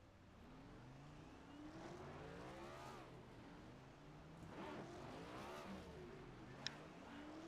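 Simulated NASCAR race cars in the iRacing game pulling along pit road at Daytona: faint, rising and falling engine whines as several cars accelerate past, one after another.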